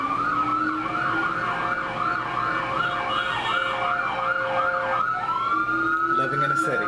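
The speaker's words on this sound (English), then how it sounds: "as we wait for the sirens to go by." Emergency vehicle sirens pass by on a city street, a loud wailing siren cycling rapidly up and down, then shifting to a long rising tone, with traffic rumble beneath.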